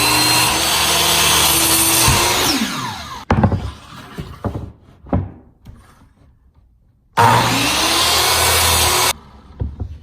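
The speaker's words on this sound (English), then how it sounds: "I'm going to go ahead and cut it down into more manageable pieces." A power saw cuts a wood board into 3-foot pieces for kitchen island cabinet face frames, making two loud, sustained whining cuts with the blade spinning down between them.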